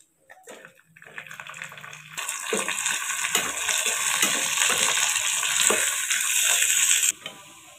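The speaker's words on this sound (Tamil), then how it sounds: "இதே நெய்யில் முந்திரியும் சேர்த்து வறுத்துக்கலாம்" Cashews drop into hot ghee and fry, a quiet start with a few clatters, then a strong steady sizzle for several seconds before it suddenly drops away.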